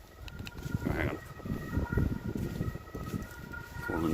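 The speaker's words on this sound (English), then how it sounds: "And an ambulance." An ambulance siren wails at a distance along an autumn countryside walk, a steady tonal rise and fall heard faintly over rustling footsteps and outdoor ambience.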